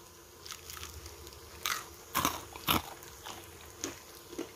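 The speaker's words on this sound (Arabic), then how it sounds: "بصي القرمشه" A crispy fried snack is bitten and crunched up close, with several sharp, separate crackling crunches spaced irregularly over a few seconds against quiet background noise.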